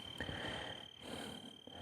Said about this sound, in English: Oh, we got the crickets outside you can listen to.